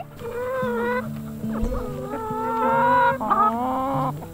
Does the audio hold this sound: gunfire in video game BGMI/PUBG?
no